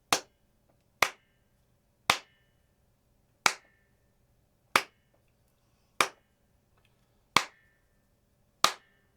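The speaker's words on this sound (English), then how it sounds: "Just after I clap, there's this little sound after it." Single hand claps in a studio about 30 inches from a music stand, eight sharp isolated claps spaced roughly a second apart, each followed by a faint short ringing resonance in a quiet room.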